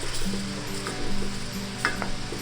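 A hot cast iron pan deglazed while cooking a Santa Maria chuck roast, a close steady sizzle with a few light scrapes and clinks of a utensil, no one talking.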